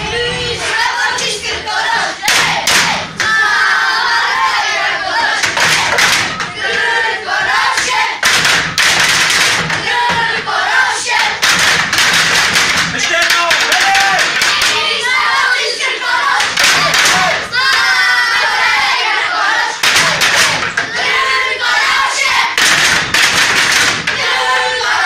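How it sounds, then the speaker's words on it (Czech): Youth ice hockey team of young boys at a tournament shouting a team chant together, loud rhythmic group yells mixed with claps and thumps, bursts repeating across the whole stretch. "Nějaký pokřik, co?"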